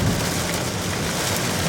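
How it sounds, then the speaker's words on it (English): Light rain drizzles steadily across a rainforest, a constant dense patter on leaves and surfaces with no voices, holding an even level throughout. "it's drizzling a little bit"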